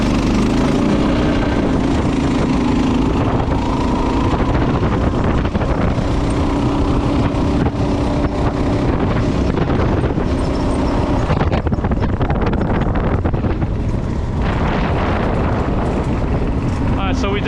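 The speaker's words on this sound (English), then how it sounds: "the time it took for the go-kart to get going from that stop to 26 miles an hour" Drift go-kart from the KT196 project accelerating hard from a standstill up to about 26 mph, a loud, close engine roar with buffeting wind noise that holds steady for the whole run, with a voice speaking over part of it.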